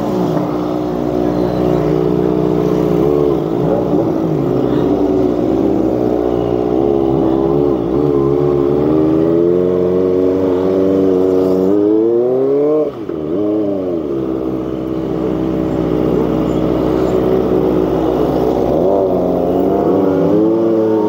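Three Kawasaki ZX25RR sport motorcycles idle and rev together in Palu, Indonesia, a loud continuous high-pitched engine drone with repeated rising and falling throttle blips, close to the microphone.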